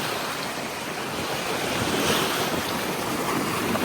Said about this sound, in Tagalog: Laking alon, guys.